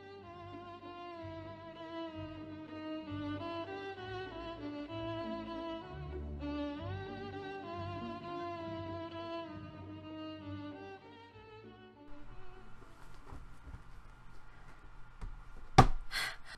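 Saint-Saëns' Danse Macabre plays as recorded orchestral music, strings carrying a steady melodic line at moderate, somewhat distant volume, thinning into quieter texture near the end with a sharp knock at the close.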